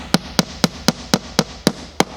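A small hammer gently taps a pin into model railway set track for a diorama, giving eight evenly spaced, sharp metallic taps about a quarter second apart, close and clear with no voices.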